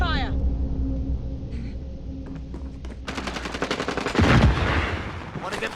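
Rapid automatic gunfire in Call of Duty Warzone, with scattered single shots giving way to dense, loud bursts of fire for the last few seconds, over a low rumble and faint voices.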